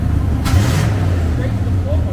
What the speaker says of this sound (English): Well, motor sounds good